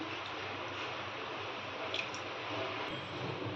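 Soaked Surti Kolam rice being rinsed by hand in water, giving a steady, close wet sloshing and swishing that runs evenly throughout with no talking.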